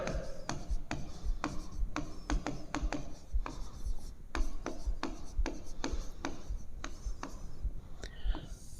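Chalk or a marker writes on a classroom board in quick, close strokes and taps, a scratchy rhythm of short bursts with brief gaps.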